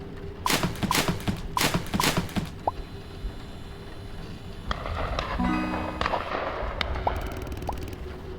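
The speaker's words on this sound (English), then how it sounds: "I hear gunshots." Several sharp gunshots crack in quick succession in the video game Last Report, then a pause, followed by more scattered distant shots and a faint rumble.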